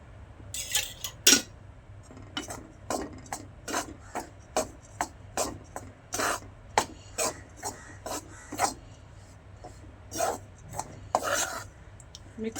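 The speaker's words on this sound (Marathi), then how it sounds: "खरबूज आपल्याला असं भाजून घ्यायचं आहे." Muskmelon seeds roast in a pan with a little oil, stirred in steady rhythmic scraping strokes, about twenty rasping passes over twelve seconds, close and clear with no talking.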